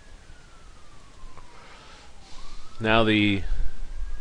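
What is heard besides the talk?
emergency vehicle sirens passing by the house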